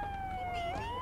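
A police car siren from the video game GTA 3 wails steadily at close range, its tone holding level before rising near the end, with no talk over it.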